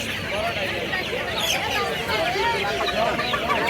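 Chickens cluck and squawk continuously at a busy live poultry market in Dhaka, close and loud, mixed with crowd babble and voices.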